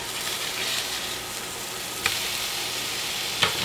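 Tuna steaks sear in a hot pan, giving a continuous, even sizzle with a couple of sharp clicks from the pan or utensil and no talking.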